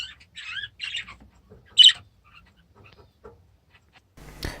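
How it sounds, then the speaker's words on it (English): Pet budgerigars in a home birdroom give a few short chirps and squawky warbles, close and clear, with pauses between the calls and a brief rustle at the end. "we can have a quick look at one of the new budgies, the new boy I got"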